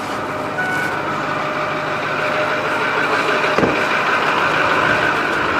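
A 2009 Ford F550 truck engine idles steadily with the air conditioning on full, a constant mid-range drone with a faint whine, no talking.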